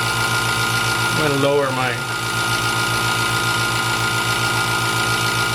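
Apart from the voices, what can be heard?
wood lathe turning an oak bowl at 500 RPM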